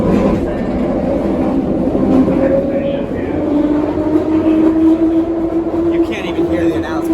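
Detroit People Mover automated train riding along its track, a loud continuous rumbling roar with rattling and a rising whine, heard from inside the car with people talking faintly underneath.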